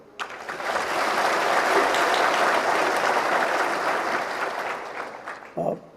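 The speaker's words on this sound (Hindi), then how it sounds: "अपने परिवार के लिए एक बार जोर की ताली मारें" Loud applause from the audience at an Assam Rifles honour ceremony for retirees in September 2025, beginning with a sharp onset, holding a dense, even roar of clapping, then ending with a brief final burst.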